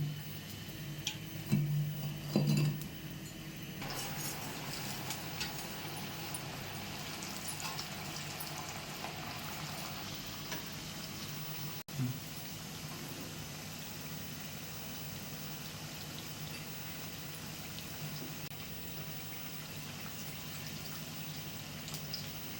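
Banana fritters (aratikaya vada) fry in hot oil during their second fry, a soft continuous sizzle and bubbling with some louder clatter early on and no talking.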